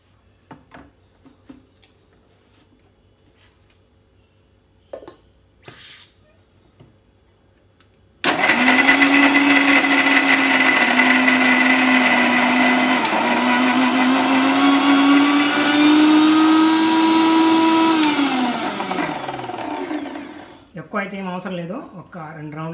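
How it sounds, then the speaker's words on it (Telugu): A mixer grinder whirs loudly and steadily for about twelve seconds, grinding small coconut pieces into masala for biryani. It starts abruptly after a few quiet clicks and handling noises, then winds down with a falling pitch. "కొబ్బరికాయ చిన్న చిన్న పీసెస్ చేసి మసాలా కోసం నేను మిక్సీలో వేస్తున్నాను"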